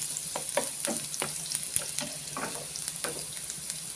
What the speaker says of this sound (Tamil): இஞ்சியை நம்ம நல்லா கோல்டன் ப்ரௌன் ஆகிற வரைக்கும் நல்லா வறுத்து எடுக்கணும் எண்ணெயில்